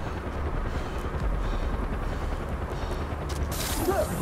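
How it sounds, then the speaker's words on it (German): Helicopter in the Far Cry 4 video game, a continuous rotor rumble somewhere behind, steady and moderately loud under dense in-game noise. "Irgendwo hinter mir der Heli."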